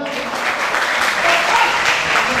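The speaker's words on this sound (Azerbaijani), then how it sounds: "Bir dənə alqışlayaq" At the AFC Young Lions-2 fight event, the audience applauds loudly and continuously, swelling slightly toward the end.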